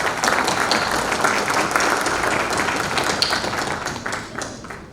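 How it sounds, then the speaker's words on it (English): Sustained applause from a conference audience for dignitaries seated on the dais, a dense, steady roar of many hands clapping that fades slightly toward the end, with no talking. "Let's give a huge round of applause for the dignitaries in the dais."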